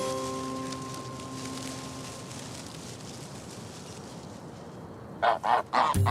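Geese on a farm give a short burst of three or four loud, close honks near the end, after a stretch of quiet outdoor ambience with a faint hum.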